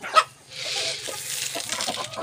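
Hungry Rhode Island Red hens clucking at feeding time, a short sharp cluck near the start followed by soft, scattered clucks over a faint rushing background, fairly distant and quiet.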